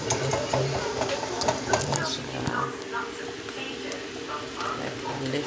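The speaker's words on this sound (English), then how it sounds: "I'm going to try and whisk that milk into it" Milk being whisked into a pan of homemade nacho cheese, with soft repeated scraping and clinking of the whisk against the pan, moderately close, alongside quiet talk.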